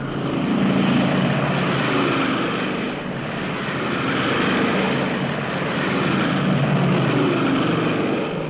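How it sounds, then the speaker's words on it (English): A formation of 1943 British heavy bombers on an August night raid against Peenemünde, a steady, loud, unbroken drone of many piston aircraft engines swelling and easing slightly throughout, with no voices. "300 British heavy bombers took to the air."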